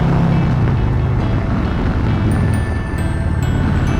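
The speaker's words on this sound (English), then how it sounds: "Man, the wind is just killer." Heavy, steady wind buffeting on a 2020 Harley-Davidson Road King Special, a dense low roar that stays loud and unbroken from start to finish, with no voice over it.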